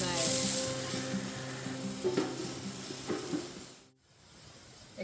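A char-broiled hamburger sizzles on a gas stove at a campsite, with a steady frying hiss, scattered pops and some faint background noise before a brief drop near the end.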